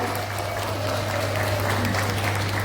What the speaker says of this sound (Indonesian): Ya, kita berikan tepuk tangan luar biasa ya.